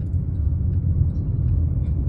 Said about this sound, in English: It's a thunder.